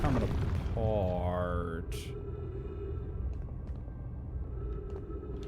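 Deep booming explosions and rumbling from the planet breaking apart in the video game Outer Wilds, loud at first with falling tonal sweeps, then a steady rumble beneath someone speaking.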